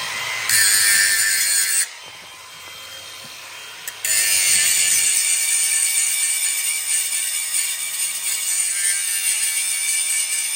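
A linisher smooths a welded steel pin on a CAT 226b skid steer under rebuild. The loud, continuous abrasive hiss pauses briefly, then resumes and runs steadily.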